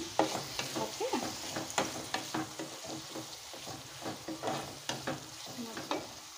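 Turmeric powder and spices frying in oil for tamarind rice, a steady close sizzle broken by repeated scraping stirs of a spoon in the pan, with no voices.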